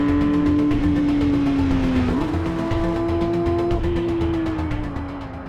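2022 Porsche 911 GT3 RS engine screaming at high revs on Silverstone Circuit, a loud sustained near wail with a brief gear-change dip, easing off as the car brakes toward a corner.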